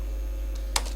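Code being typed on a computer keyboard for a JavaScript lesson, with a few crisp, close keystrokes clustered near the end of a short stretch of steady low electrical hum, and nobody speaking.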